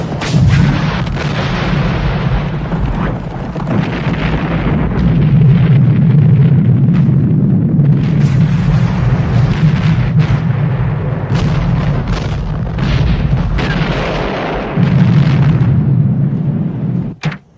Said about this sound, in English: I'll blow up the benzene.